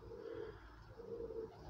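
Pigeons coo in a loft in low, repeated throaty phrases, two clear coos about a second apart over a steady murmur of other birds.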